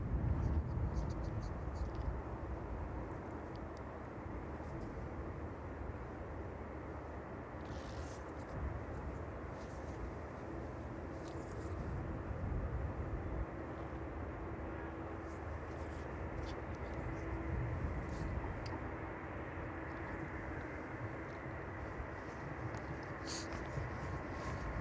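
An airliner at East Midlands Airport rumbles steadily in the distance, a broad continuous engine roar on a damp evening with faint chirps above it.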